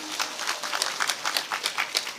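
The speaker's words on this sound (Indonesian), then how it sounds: "tepuk tangan dulu buat ibu-ibu gunung" Audience members clap together at a Javanese Islamic sermon gathering, a moderate, fairly steady patter of hand claps.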